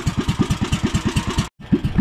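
A newly fitted small engine idles close by with a steady, loping chug of regular pulses, cutting out briefly for a moment before picking back up.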